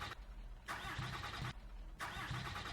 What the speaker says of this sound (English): And the K30 finally started up there.